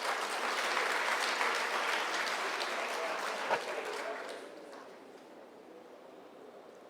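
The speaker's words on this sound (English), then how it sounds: "Can we give them a round of applause, please?" Audience applause at a closing ceremony, honoring sponsors: a dense, steady wash of clapping from a large crowd that holds strong for about four seconds, then thins and fades to a quieter patter.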